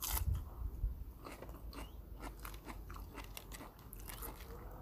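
Someone takes close, quiet, crunchy bites of a spicy Thai pig ear and glass noodle salad, with repeated crisp chewing and crunching through the stretch.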